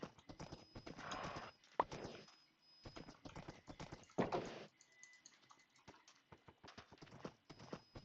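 In the video game Minecraft, a ridden horse's hooves clip-clop in quick, even clicking runs, broken by short pauses and a few louder bursts, with no talk over them.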